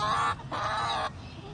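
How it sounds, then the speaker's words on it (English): Backyard chickens giving two loud honking squawks close by, each lasting a fraction of a second, followed by quiet. "You don't like the chickens?"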